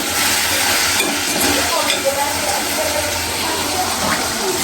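Food cooking in a pan at home, a steady broadband sizzle and frying hiss with occasional stirring scrapes, continuous and fairly loud throughout.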